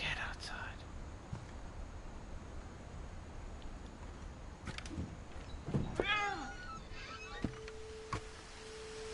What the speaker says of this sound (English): There's a cat outside.